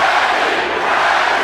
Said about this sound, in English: Crowd is into it already.